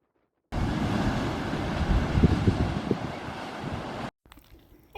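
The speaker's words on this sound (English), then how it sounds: "It's so windy." Strong wind roars over the microphone on an island beach in Western Australia, a loud, steady buffeting with a surf-like rush that starts abruptly and cuts off near the end.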